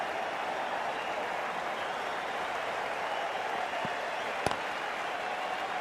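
A cricket crowd at a women's Hundred match between Manchester Originals and Oval Invincibles claps steadily, a dense, even wash of applause heard from a distance, with a single sharp crack near the end.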